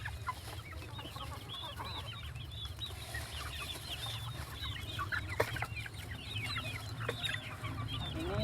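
Crossbred kampung laying hens about four months old, clucking and chattering in a dense, busy chorus of many birds close by over a steady low background hum.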